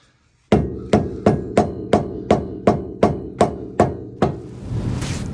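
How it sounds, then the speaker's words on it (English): Ten sharp metallic hammer blows on a Honda Civic's lower suspension control arm to free it from the ball joint, ringing out at a steady, even pace, close and loud, followed by a brief scraping rustle. "we're going to hammer on this and try to drop the control arm down off the ball joint"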